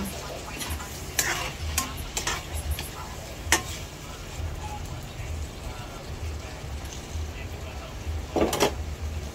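A spoon scrapes and knocks around a pan as hotdog and mushroom spaghetti sauce is stirred, with a low sizzle underneath and a few sharper clacks against the metal, steady and close.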